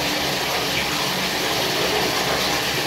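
Water gushing from a tap to fill a tub for an ice bath, a steady loud rushing pour that continues without pause.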